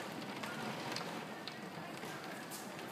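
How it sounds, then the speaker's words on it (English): Rain falls steadily during a New York thunderstorm, a faint, even hiss with scattered drops pattering on a surface and no voices. "It's raining on us now."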